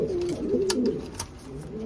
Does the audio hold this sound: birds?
yes